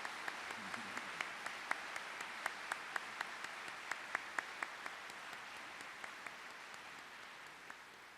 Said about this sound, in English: let's give a big, big round of applause for our friend Warren Buffett